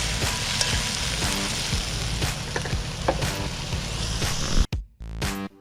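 Potatoes, carrots and okra sizzle steadily in a hot pot of Jamaican-style fish stew with stirring clatter, loud and continuous before a brief drop near the end and a short return.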